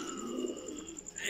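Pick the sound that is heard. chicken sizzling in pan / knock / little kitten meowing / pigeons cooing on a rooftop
pigeons cooing on a rooftop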